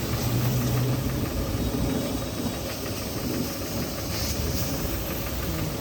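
A loud, steady engine rumbles and hisses continuously at close range, with no breaks or speech.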